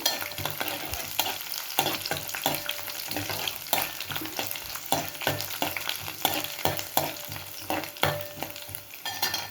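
A tempering of garlic and two small dried red chillies fries in hot oil with a dense crackling sizzle and repeated sharp scraping of a spoon stirring, close and busy throughout.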